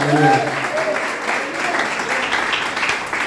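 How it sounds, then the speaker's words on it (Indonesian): A church congregation applauds for Jesus, the clapping a dense, continuous wash under a speaking voice at the start and a faint musical tone. "Tepuk tangan bagi Tuhan Yesus."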